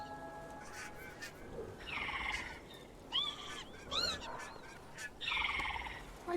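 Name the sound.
bird honking in the video game Broken Age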